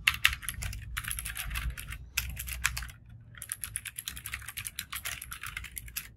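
Typing on a Tecware Phantom Elite 104 mechanical keyboard, weighing about 1.2 kg: rapid bursts of sharp, close clicking keystrokes with short pauses between runs, no voices.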